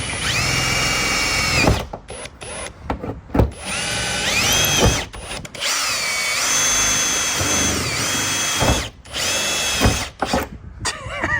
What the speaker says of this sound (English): Let's drill some metal.